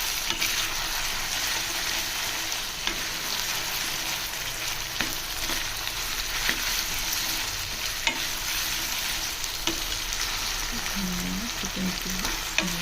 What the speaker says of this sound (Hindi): अच्छी तरीके से फ्राई करना।